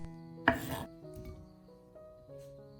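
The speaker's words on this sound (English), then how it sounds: "Then cut the tomatoes into wedge-shaped pieces." A knife slicing tomatoes into wedges on a board, one crisp, loud cut near the start followed by softer scraping and tapping, with faint kitchen hum underneath.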